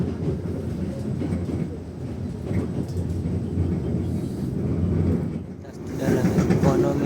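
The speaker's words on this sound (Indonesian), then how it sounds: "Pukul 18:28 kereta api Belambangan Ekspres berangkat dari stasiun Jember" The Blambangan Ekspres passenger train pulls out of Jember station in Indonesia with a steady low rumble and rolling wheel noise, building slightly, with faint squeal near the end.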